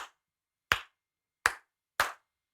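Four sharp single hand claps ring out in a room, spaced about three quarters of a second apart, and each leaves a short rattling flutter echo tail before silence.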